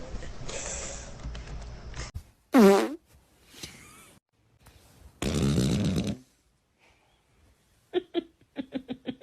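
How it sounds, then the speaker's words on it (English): Several farts from girls, a loud squeaky rising one, then a long buzzing rumble, followed by a series of short sputtering bursts, separated by pauses, with faint voices in between. "Sam, I just farted on camera."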